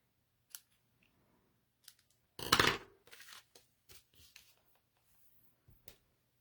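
Scissors trim a paper card up close in a quiet room, making a longer crisp run of snips and rustles, then several short, scattered cuts with silent gaps between them.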